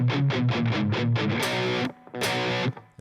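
Distorted electric guitar playing a riff in standard tuning: a rhythmic run of chugging power chords, several quick repeated hits, then two loud open-string crashes that ring out, with no talking.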